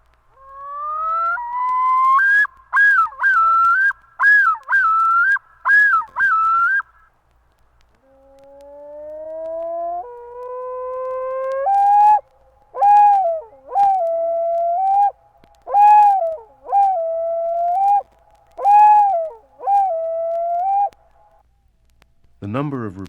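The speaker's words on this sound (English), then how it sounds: "Here then is the yodel, first at normal speed and then slowed to 1/2 speed." A common loon gives its yodel call, a series of rising, wavering repeated phrases played first at normal speed and then slowed to half speed, so it sounds lower and drawn out. The calls are loud, clear and free of background noise.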